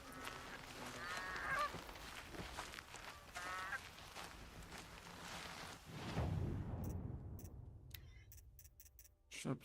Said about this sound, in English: Some geese?